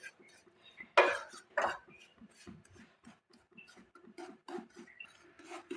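Flour roasting on low flame in a pan for Assamese coconut-milk mithai, stirred with a utensil giving soft scraping and rubbing strokes in an uneven rhythm, close and fairly quiet.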